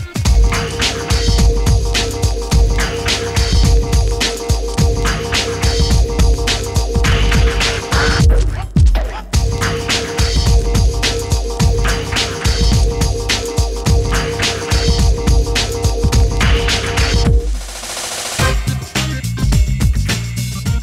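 Toyota Vios fitted with a Unichip being tuned on a dyno: loud, steady engine drone held for several seconds, a brief drop, then the sustained run resumes before cutting off near the end.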